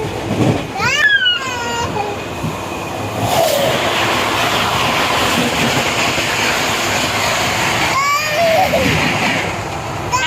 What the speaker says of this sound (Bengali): ফারাক্কা ব্রিজের উপর দিয়ে যাচ্ছে এই যে একটা ব্রিজ ক্রস করছে দেখো